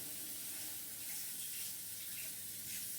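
Tap water runs steadily into a kitchen sink while a pan used for pancakes is rinsed, a continuous close splashing hiss filling the whole stretch without pause.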